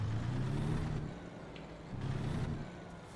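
Dumper trailer truck in American Truck Simulator starting up and driving, a steady engine rumble that rises and falls as it revs, moderately loud with no talking.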